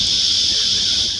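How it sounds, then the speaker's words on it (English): Cicadas in summer on the east coast of Australia, a loud, steady high-pitched drone without pause, filling the whole moment with no voices. "Cicadas signal summer on the east coast of Australia."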